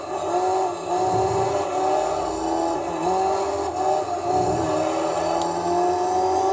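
A Toyota Corolla rally car in the Gran Turismo 3 video game revs its engine hard toward about 7,600 RPM, with a loud, continuous, whining engine drone and faint tire noise throughout.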